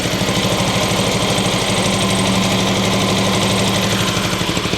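A Cushman engine with the choke almost fully off runs steadily, loud and close, with a rapid, even knocking pulse and no voices.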